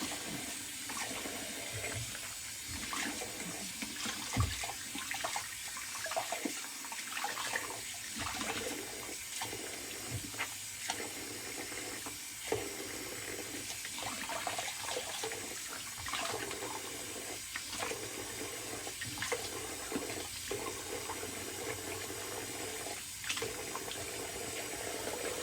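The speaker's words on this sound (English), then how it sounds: "All right, cold water rinse." Cold water running from a tap for a post-shave rinse, a steady close splashing stream with occasional louder drips and gurgles, no talking.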